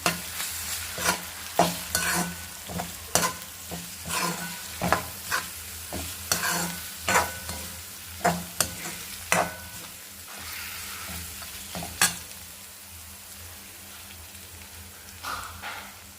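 Ginger-garlic paste and turmeric frying in a pan for a bitter gourd pulusu, with a soft sizzle under regular, close scraping stirs of a spoon that come every second or so and thin out toward the end.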